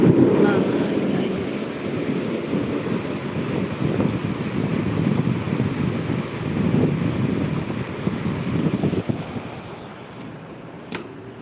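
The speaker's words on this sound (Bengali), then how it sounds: "আল্লাহ এত বৃষ্টি" Heavy rain pours steadily through a stormy night, a dense broadband roar with gusting wind noise, loud and continuous for the whole stretch, a brief sharp crack near the end.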